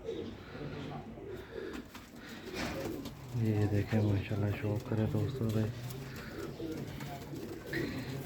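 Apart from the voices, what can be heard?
Ferozpuri pigeons cooing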